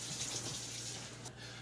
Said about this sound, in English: Fill the pot halfway with water